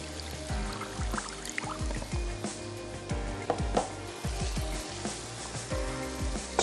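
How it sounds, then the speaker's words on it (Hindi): A little water goes into a hot cooking pan of chicken and Mexican rice mixture, hissing and sizzling loudly and steadily up close, with clinks and scraping of stirring throughout. "थोड़ा सा पानी ऐड कर देते हैं"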